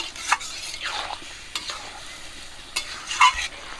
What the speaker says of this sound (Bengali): এখন ম্যারিনেট করে রাখা চিকেনটা দিয়ে দেবো এবারে আমি মাংসটাকে আস্তে আস্তে কষিয়ে নেব ভালো করে